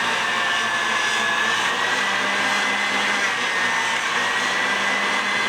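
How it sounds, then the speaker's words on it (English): A stand mixer whisks Italian meringue steadily until it cools, giving a continuous loud, even motor whir with no breaks and no voices. "So you let it whisk until it cools off."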